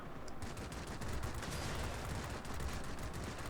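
Warplane machine guns in World of Warplanes fire nonstop in a dense, loud, rattling stream. They sound steady and close, with no voices.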